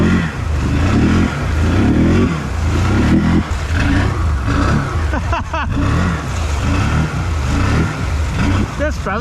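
A Can-Am Renegade 1000 XMR ATV engine revs while churning through thick mud, a loud, rising and falling roar with throttle surges and splashing close by.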